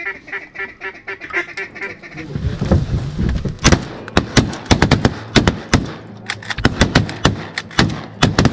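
Shotgun blasts ring out during a duck hunt at Reelfoot Lake, a rapid volley of loud, sharp reports after honking and quacking birds. The shots come in irregular bursts, some overlapping, with no voices.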